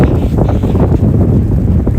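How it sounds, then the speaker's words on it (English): Loud, heavy wind buffets the microphone with a constant low roar during a cold outdoor run on the day of the first snow. "now that that wind has picked up"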